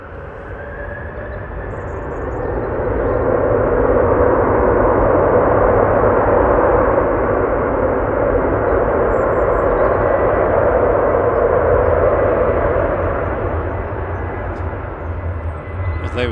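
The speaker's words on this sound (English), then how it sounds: "They were certainly putting the reverse thrust on the Virgin." Virgin Airbus A330-300 with Rolls-Royce Trent 700 engines landing at Manchester Airport, its reverse thrust swelling into a loud, broad roar that holds for several seconds before slowly fading, heard from a distance.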